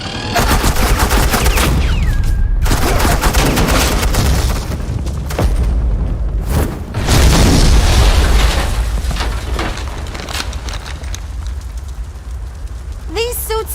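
Heavy suppressing gunfire in The Batman Telltale game, dense rapid shots and booms rolling continuously, loud and close, with voices speaking amid the barrage.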